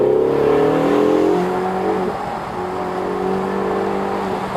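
A Ferrari California T engine pulls hard to overtake an old Citroën BX, a loud close interior drone that rises, eases off and settles into a steady hum.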